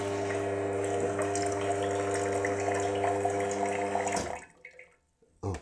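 A Wega espresso machine's pump hums steadily with watery gurgling as it draws water from a jug for several seconds, then cuts off abruptly, leaving near silence and a final small knock.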